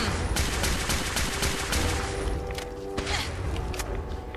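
Rapid bursts of gunfire in the video game Fallout 4, dense and loud with repeated sharp shots and mechanical clatter, continuing in uneven volleys throughout.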